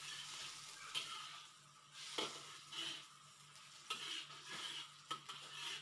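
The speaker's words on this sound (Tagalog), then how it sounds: "Haluin lang po natin ang maayos" A utensil stirs lemon juice through a pan over heat, with a soft steady sizzle and scraping strokes punctuated by a few sharper clinks against the pan, close and fairly quiet, no talking.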